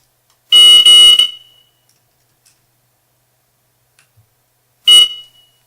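Smoke detector module alarm on an Eltako EnOcean home automation system sounding during pairing: a loud, harsh electronic beep burst lasting under a second, a short silence, then a second identical blast a few seconds later.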